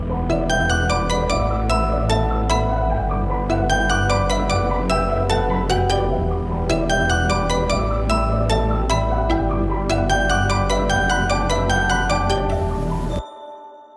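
Color bass electronic track built around a bright glockenspiel melody over a sustained atmospheric pad and deep low end, playing loud and continuous before cutting off sharply near the end.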